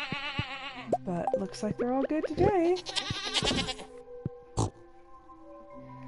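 Goats in the Stardew Valley video game bleat several times in quick succession, fairly loud, while a person talks over them.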